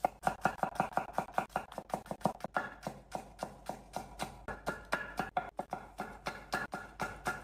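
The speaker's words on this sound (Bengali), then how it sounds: "তারপর ক্যারেটগুলো আমি পাতলা স্লাইস করে কেটে দিচ্ছি।" A knife chops carrots into julienne strips on a board, a quick run of sharp, evenly spaced taps that is close and clear, with only a few short gaps and no talking.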